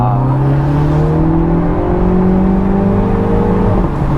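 A front-wheel-drive convertible's engine pulls hard under acceleration, a loud, steady droning hum rising gradually in pitch before easing off near the end, heard close from inside the car.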